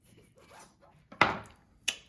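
A knife cuts through soft dinner rolls in two sharp, close strokes, each a brief crisp crunch against a board, after quiet faint rustling.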